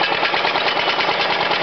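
A homemade motorized bicycle's 49cc two-stroke engine runs close by, a rapid, steady buzzing putter at even loudness through the short stretch.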